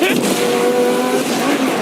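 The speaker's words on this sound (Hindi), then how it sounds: "ये कार दुनिया की तेज कारों में से इसीलिए है क्योंकि इसके अंदर ट्विन टर्बोचार्ज्ड V8 इंजन लगा है" Twin-turbocharged V8 supercar engine roaring close and loud under acceleration, a steady sustained rise with faint tyre noise and wind, voices talking faintly over it.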